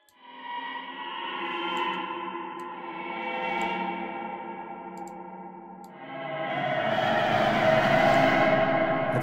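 A granular synth from the Tardigrain plugin, set with few voices and a large reverb, plays sustained washy tones. A shimmering pad swells and falls, then a brighter, denser layer rises and hangs in a long reverberant tail.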